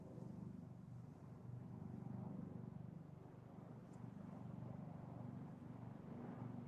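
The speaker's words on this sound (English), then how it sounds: "Sounds like a helicopter." A steady low helicopter rotor whir from a video game drones continuously, muffled and moderately distant, with no talking over it.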